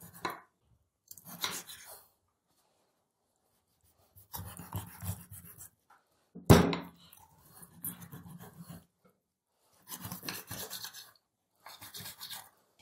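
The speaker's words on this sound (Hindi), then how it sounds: "अब हम फिश की कटिंग करेंगे। फिश को हम बड़े बड़े टुकड़ों में कटिंग कर लेंगे।" Fish being cut into large pieces for a restaurant-style crispy fish fry: a few bursts of close knife chopping and scraping on a board with quiet pauses between, plus one sharp knock near the middle.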